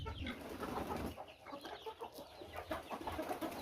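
Several chickens cluck and call outdoors, busy overlapping fowl sounds with a low rumbling background that eases after the first second.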